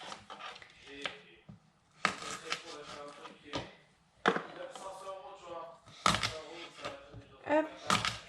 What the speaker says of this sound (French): Et là, on va couper les oignons.